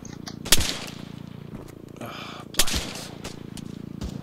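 Gunfire in the Arma 3 video game during a Fallujah patrol: two sharp, loud shots stand out against a steady low rumble, with scattered fainter reports between them and no speech.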